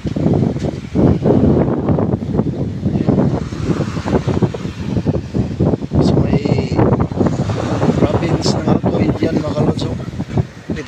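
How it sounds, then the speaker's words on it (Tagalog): Strong sea wind at Alcoy buffets the microphone with loud, continuous roaring gusts that swell and dip throughout, mixed with surf, and a few sharp high squeaks cut through. "Tamang-tama ba na sobrang lakas ng hangin dito."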